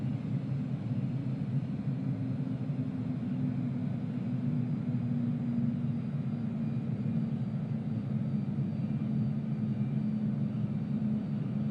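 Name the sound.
KLM Dreamliner jet engines landing, from video game Microsoft Flight Simulator 2020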